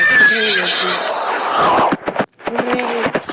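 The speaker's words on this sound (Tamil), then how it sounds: "குதிரை" A horse neighs in a Roblox prison obby game, a loud drawn-out whinny followed by a second shorter neigh after a brief gap, with a voice talking alongside.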